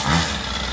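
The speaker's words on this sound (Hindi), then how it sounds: "ये देखो भाई हन्नी को बाइक चलानी सिखा रहा है" A motorcycle engine revs hard at a bike drag race, a steady, loud mechanical roar filling the whole short stretch with no talk over it.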